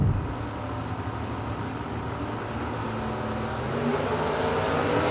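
Drag racing cars, including a 1995 Cutlass, launch off the start line at a Fall Fling drag meet, a steady broad engine roar that swells slightly louder toward the end, heard from a distance with crowd ambience.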